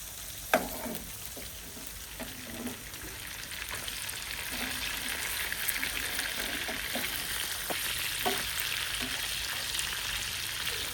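Beef kofta fries in butter in a frying pan, giving a steady, moderately quiet hiss that builds slightly over time. A few light knocks and scrapes are heard early on, then a couple of utensil touches near the end.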